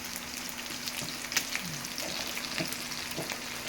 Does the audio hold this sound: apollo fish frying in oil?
yes